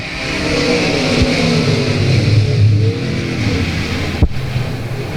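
Race cars leave the green flag together at the start of a heat race at South Texas Speedway, a loud, rising chorus of revving engines with a couple of sharp knocks.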